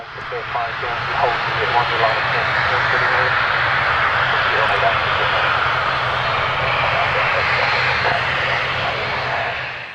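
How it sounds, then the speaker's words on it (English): A loud airplane engine roars steadily overhead as the aircraft climbs away during a go-around, with a voice talking briefly near the start. "The plane behind it then had to go around."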